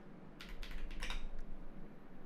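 Keystrokes on a computer keyboard as a command is typed into an Ubuntu terminal, a short quick burst of several taps close by and fairly faint over a steady low hum.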